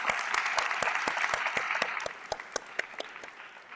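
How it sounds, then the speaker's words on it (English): A crowd applauds at a high school National Honor Society induction ceremony, dense clapping that thins out toward the end into a few scattered claps. "Let's give yourselves a round of applause."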